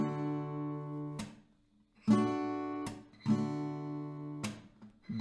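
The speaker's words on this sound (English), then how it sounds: "1 stroke down, a small pause and clap." Acoustic guitar down strokes played as a pop strumming pattern, each full ringing chord cut short by a sharp muted clap-like slap, with brief pauses between. The chords are loud and close, repeating steadily with nobody talking.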